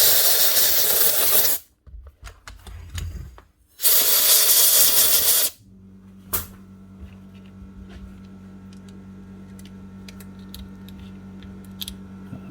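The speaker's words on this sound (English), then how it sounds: "Give it a quick blow with the compressor." Compressed air hisses loudly in two strong blasts to blow out a power tool that has a jammed brush. After the blasts come quieter handling clicks and a low steady hum.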